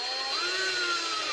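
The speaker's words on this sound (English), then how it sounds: "I'm just going to drill down a hole above where the wheel will sit" Small drill boring a hole into a Hornby Class 142 Pacer model diesel railcar above the wheel position, a steady high-pitched whine held briefly and close.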